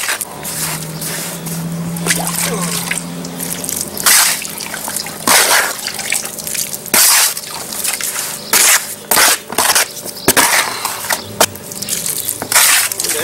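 Portland cement patching mortar is mixed with water for sidewalk resurfacing, heard as wet squishing, scraping and crunching strokes in an irregular rhythm, close and fairly loud, with a low hum at the start.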